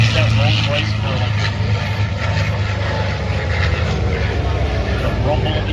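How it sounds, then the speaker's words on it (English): Warbird with a Rolls-Royce Merlin engine flying past at an air show, a loud continuous propeller drone and rumble with a commentator speaking over it. "Sounds that Rolls-Royce Merlin."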